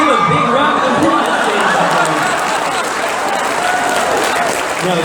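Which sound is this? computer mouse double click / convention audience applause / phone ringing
convention audience applause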